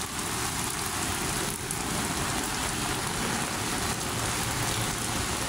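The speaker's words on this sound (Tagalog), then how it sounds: "ang lakas ng ulan" Steady, dense rain pouring down hard at Manila Bay, a continuous loud hiss with no voices.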